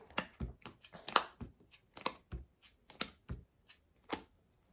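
Playing cards drawn and handled during a Marvel Champions card game, Ghost-Spider against the Sinister Six, give a string of short, close, dry card snaps and shuffles, irregular and fairly quiet, with no voices.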